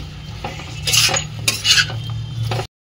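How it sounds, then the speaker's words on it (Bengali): A metal spoon stirs food with jujube fruit in a cooking pan over a lowered gas flame, giving several close, distinct clinks and scrapes over a steady low hum, with no talking. "ভালো করে একটু নাড়াতে থাকবে, গ্যাসটা কমিয়ে ভালো করে নাড়াবে"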